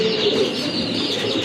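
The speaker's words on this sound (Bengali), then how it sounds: "অনেক সুন্দর কবুতর, খুবই অ্যাট্রাকটিভ একটা কবুতর" Pigeons kept for sale coo softly and continuously at close range, with a low, rolling murmur and no voices.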